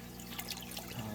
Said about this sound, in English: I'm just gonna kind of squeeze them out